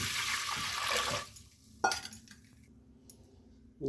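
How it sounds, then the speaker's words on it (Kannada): Water is poured into a cooking pot for a Mandya-style brinjal and lentil upsaaru, a steady rushing pour of about a second and a half, followed by quieter clinks of the pot and utensils. "ಅದಕ್ಕೀಗ ಸ್ವಲ್ಪ ನೀರು ಹಾಕೋಣ"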